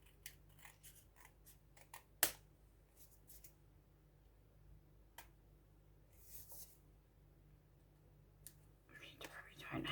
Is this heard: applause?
no